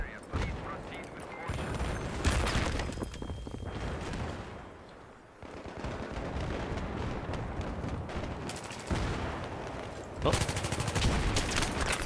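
Gunfire and combat noise in the video game Battlefield 3 on the Markaz Monolith map, dense rapid shots and bursts over continuous battle noise, with a voice talking over it.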